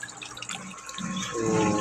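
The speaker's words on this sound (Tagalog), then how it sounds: "kumukulo-kulo yung tubig" An aerator bubbles water in a small fish pond stocked with tilapia, a close, steady gurgling and splashing that grows louder toward the end.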